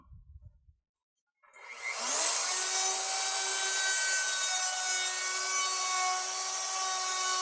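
After a brief low rumble and a pause, a router with a roundover bit spins up to a loud, sustained high-pitched whine as it cuts into wood trim, steady and close.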